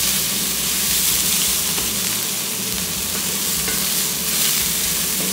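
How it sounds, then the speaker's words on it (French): Cayenne and black pepper heating in a frying pan, stirred continuously, with a loud, close, steady sizzle and soft scraping throughout, no speech. "on va rapidement faire chauffer ces épices pour décupler leur saveur. On garde le mouvement pour que ça ne brûle pas"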